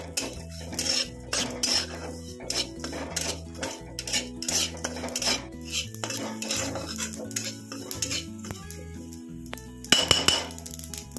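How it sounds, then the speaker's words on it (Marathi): Whole spices being dry-roasted and stirred in a pan, with busy metal utensil scrapes, clinks and knocks against the pan running steadily and close up throughout, growing louder near the end. "आता आपण हे सगळे मसाले आहेत हे एकत्रच मी सगळे टाकणार आहे याच्यामध्ये। आणि हे सुद्धा छानपैकी भाजून घ्यायचे।"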